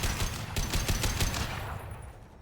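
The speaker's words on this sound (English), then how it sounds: "Shoot him in his legs!" Rapid gunfire in the Mass Effect 2 video game, a burst of several closely spaced shots over the first second and a half, then fading into a quieter tail.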